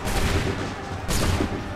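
Musket volley gunfire in Assassin's Creed 3, two loud crackling volleys about a second apart, the second sharper, over steady battle noise.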